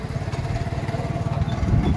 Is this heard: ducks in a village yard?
no